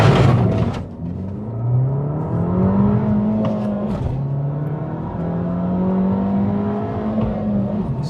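An Abarth 695 70th Anniversary Edition accelerates hard in sport mode, its engine note climbing loudly through rising revs with a brief dip at a gear change, heard close from inside the car.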